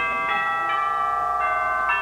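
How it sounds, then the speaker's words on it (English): A shrill, high-pitched electric doorbell rings steadily with bright harmonic tones, pulsing slightly in a few repeated swells, loud and close with no talk over it. "The bell is too shrill."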